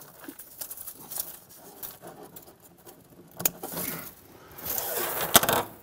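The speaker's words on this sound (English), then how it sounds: "I'm going to cut this tape wire." Scissors snipping through thin tape wire while installing miniature electrics, a few small close crisp cuts and light handling clicks, with a sharper snip near the end; no talking.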